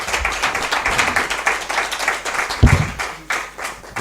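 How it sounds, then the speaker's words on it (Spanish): An audience gives lively clapping at a Spanish history lecture on early democratic town councils in La Palma, with a few louder thumps and the clapping carrying on through the whole stretch. "Un aplauso."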